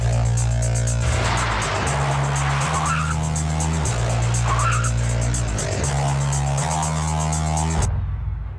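A car engine hums steadily as the vehicle pulls away in a staged drama, with tonal engine drones shifting in pitch across several gear-like steps before cutting off abruptly.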